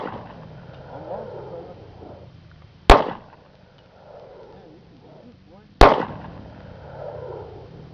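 Two sharp, loud gunshots from a .40 caliber handgun ring out about three seconds apart at an outdoor shooting range, each a crisp crack with a short decay, with low voices murmuring in between.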